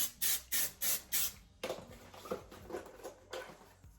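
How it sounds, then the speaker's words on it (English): Five quick hissing bursts of hair wax spray in an even rhythm, followed by soft rustling and brushing of hair with a soft bristle brush nearby. "adding in some more wax spray"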